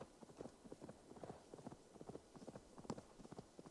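Horse hooves clop in a quick steady rhythm in the video game Assassin's Creed Valhalla, a continuous trotting patter at moderate volume with no voices.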